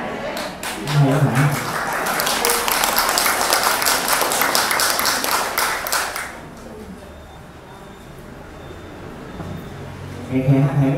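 An audience at a Buddhist dharma talk claps and applauds steadily for several seconds, then the clapping stops, leaving quiet room noise before a voice begins.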